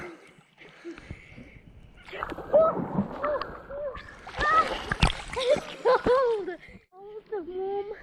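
A loud splash into water, followed by sloshing and rippling, with children's voices and chatter around it outdoors.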